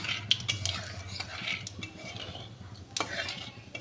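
Nigella seeds temper in hot oil in an old, well-used wok with a faint sizzle, over close metal scrapes and clinks from stirring; no one talks.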